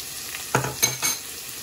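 Turmeric powder added to a pan for creamy kali mirch chicken, where the moisture has nearly dried up, giving a soft steady sizzle with two brief metallic scrapes of a stirring spoon against the pan, close and moderately quiet, with no voices.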